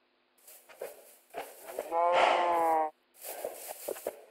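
Cattle in a video game let out a long, loud moo in the middle, with voices talking before and after it.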